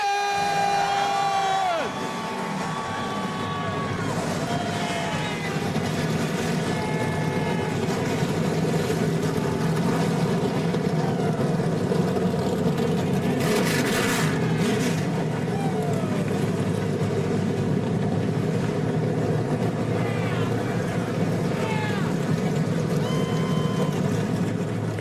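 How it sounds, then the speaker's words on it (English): At a dirt track NASCAR truck race at Eldora Speedway, a field of engines fires up and rumbles together in a steady loud roar, with crowd noise and cheering mixed in around them. "And the engines have fired"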